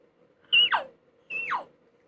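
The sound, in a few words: elk calf call imitated on a bugling reed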